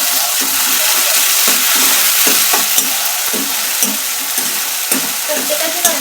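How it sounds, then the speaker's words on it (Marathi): Onion and tomato fry in a hot pan for a Marathi home lunch, giving a loud, continuous sizzle up close. A spoon stirs the pan now and then with repeated scraping strokes, and no one speaks. "कांदा जरासा भाजला की लगेच टोमॅटो टाकायचं"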